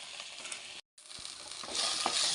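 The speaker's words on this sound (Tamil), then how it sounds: "வெண்டைக்காவை வறுத்து எடுத்துக்கணும்" Okra sautéing in a pan for sambar, a close, steady sizzle with stirring scrapes, briefly cutting out before the frying hiss swells louder, with no voices.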